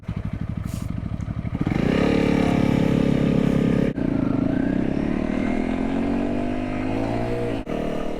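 Motorbike engine running steadily while being ridden, a loud, close, continuous drone that rises in pitch as it accelerates, with no one speaking.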